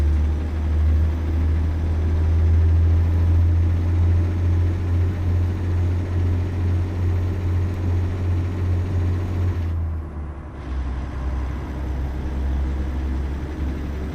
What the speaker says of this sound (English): Engine sounds really good though.